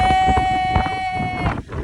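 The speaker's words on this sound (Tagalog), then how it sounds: "sobrang lakas talaga ng hangin sa taas" Loud wind on a mountaintop buffets the microphone in rough gusts, with a steady tonal hum and a voice partly audible beneath the roar.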